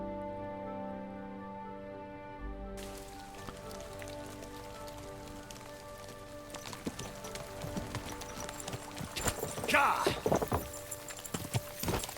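Horse hooves clip-clopping in the video game Kingdom Come: Deliverance II, irregular hoof strikes on a road rising under steady ambient music and rain-like texture, with a voice talking at times.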